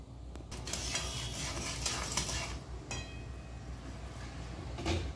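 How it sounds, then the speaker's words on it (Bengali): Crab being stirred in a pan for a tangy tamarind crab dish, moderate sizzling under irregular scraping and clinking stirs, fairly close and steady throughout. "কাঁকড়া দিয়ে ভালো করে নেড়ে নিচ্ছি। আবারও ভালো করে নেড়ে নিচ্ছি।"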